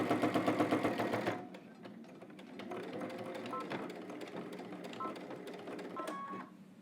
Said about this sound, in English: we're going to top stitch it a 1/4 inch away from the fold here